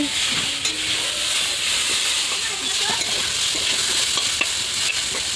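Onions frying in a pan, a continuous bright sizzle and hiss with occasional stirring scrapes, steady and close for the whole stretch.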